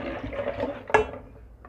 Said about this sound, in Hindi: इसमें हम डाल देंगे 1 लीटर पानी